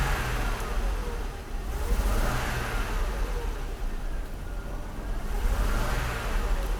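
A Mercedes W126 300SEL with worn engine mounts is tested after fuel distributor repair, its engine rising and falling in a couple of broad rev swells over a steady rumble, close and fairly loud.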